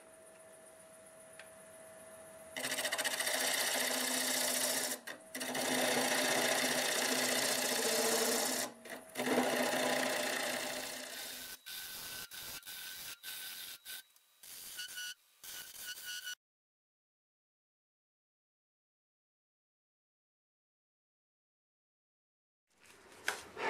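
A wood lathe turns a London plane bowl at about 900 RPM while a half-inch bowl gouge hollows it, giving a loud, steady hissing tear with brief pauses and choppy bursts, then silence and a faint return near the end.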